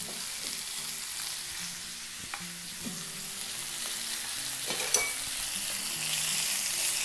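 Ham pieces frying in a pot on a camping stove give a steady, close sizzle throughout, with occasional soft clinks and scrapes from stirring.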